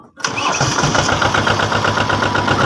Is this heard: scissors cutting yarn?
no